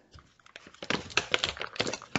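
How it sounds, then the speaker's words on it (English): A dog eating nearby, crunching its food in a quick irregular series of dry, crackly bites that grow louder and denser partway through. "If you hear crunching in the background, that's my dog."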